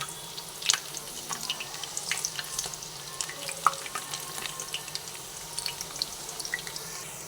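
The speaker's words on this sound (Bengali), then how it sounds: "উল্টে পাল্টে বড়াগুলো দুটো দিকে ভেজে নিলাম" Masoor dal fritters fry in hot oil in a pan, a soft steady bubbling sizzle with scattered crackles and pops, close and moderately quiet with no voice.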